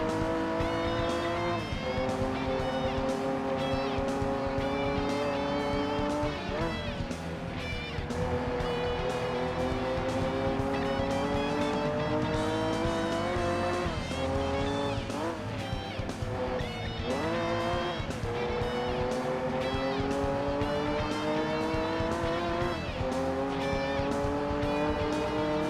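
A race car engine in the Gran Turismo 2 video game roars continuously, revving up and down through gear shifts with occasional tire squeal, loud and close throughout.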